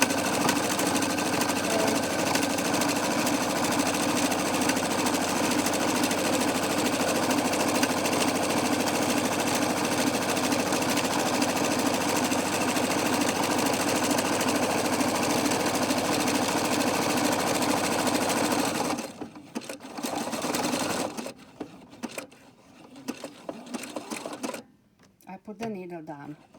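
A sewing machine stitches fabric fast with a 1 cm seam allowance on a simple shopping bag. It runs as a close, steady, dense mechanical whir for most of the time, then stops and starts in short bursts near the end.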